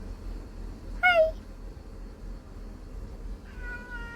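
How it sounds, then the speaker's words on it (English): A white cat gives one short, clear meow close by, followed after a quiet pause by a fainter, longer second meow over low background hum. "There's the white cat"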